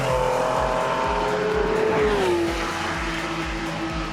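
A 25-year-old Porsche laps a damp track day, its engine droning loud and steady with a rising then falling pitch as it shifts, heard from on board with tire noise beneath.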